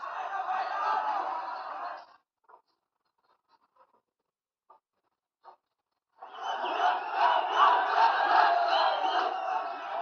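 Crowds of protesters reaching the Supreme Court and the Singadarbar government compound roar and shout in two loud, dense bursts separated by a few seconds of near silence with faint scattered noises.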